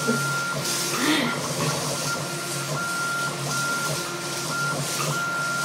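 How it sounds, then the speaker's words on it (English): A Bambu 3D printer runs nearby, giving off a steady high-pitched whine with soft mechanical whirring and shifting motor tones throughout. "one of the bamboo printers are running right now, and so we hear all that noise"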